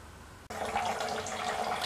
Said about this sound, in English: That noise of trickling that you hear in the background is just the water coming out of the condenser collecting into a pail